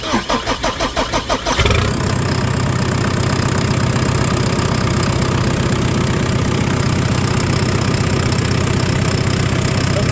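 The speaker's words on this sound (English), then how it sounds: "Let's crank her up." JCB backhoe diesel engine cranking with a rhythmic starter chug for a moment, then catching and settling into a loud, steady idle close by.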